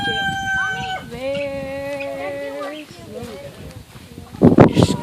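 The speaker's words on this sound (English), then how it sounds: "There's the rooster." A rooster crows a long, clear call close by among chickens, followed by scattered clucking and a burst of loud commotion, with children's voices talking around it.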